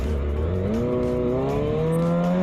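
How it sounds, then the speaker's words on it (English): A car skidding at high speed, its loud tire squeal rising and shifting in pitch over a roaring engine, heard close and alone. "The car skidded at high speed and ended up exactly where it deserved."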